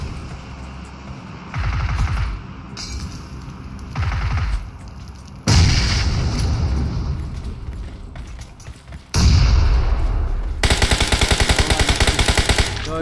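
Automatic gunfire and a heavy grenade blast ring out in PUBG Mobile, loud bursts of rapid shots separated by short pauses, with a sharp explosion and a fast rattling volley near the end.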